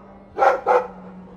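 Two quick barks from a dog in the Dragon Age 2 video game, close and fairly loud, in a double rhythm over a faint steady hum.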